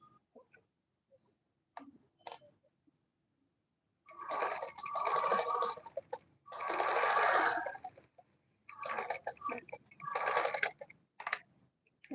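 Home sewing machine stitching Ankara fabric for a gown, running in short bursts of a few seconds each with quiet gaps and faint clicks between them, close and moderately soft.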